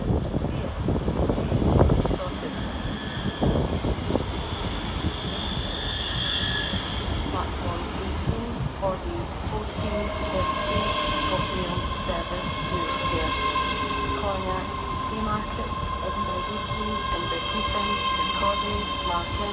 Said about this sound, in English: Next in to terminate with the ScotRail Express service of Glasgow Queen Street is 385102